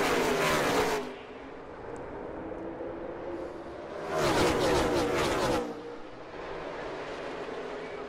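NASCAR race cars at the Busch Clash roar past in two loud bursts, each a dense engine howl that surges and fades, with a lower steady rumble of the pack in between.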